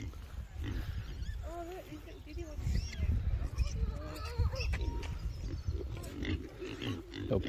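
Wild boar piglets at a boar park, giving squeaky grunts and squeals amid low rustling and snuffling, with people talking nearby.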